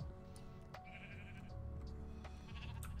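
Several sheep bleat in a vanilla Minecraft world, a few short wavering calls rising over a steady ambient bed, moderately close with no talking.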